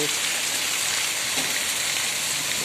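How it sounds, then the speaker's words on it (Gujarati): Heavy rain pours steadily onto a village street in Gadhada during an unseasonal storm, a dense, even hiss of drops filling the scene from start to finish with no pauses. "ભરપૂર વરસાદ વરસી રહ્યો છે અત્યારે ગઢડામાં"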